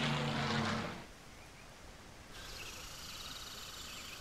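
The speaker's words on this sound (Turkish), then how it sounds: "Aa, uçaklar geçiyor." Propeller airplanes fly over a jungle in the survival game Green Hell: a loud rumbling pass in the first second gives way to a fainter, steady droning hum that lingers in the distance.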